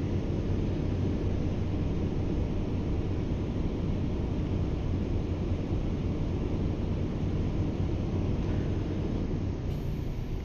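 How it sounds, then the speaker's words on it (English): The PACCAR engine of a Kenworth T680 truck in a driving video game runs as a steady, low, broad rumble with wind-like noise, unchanging throughout and turned down somewhat, with no voices. "The PACCAR engine don't sound bad, though."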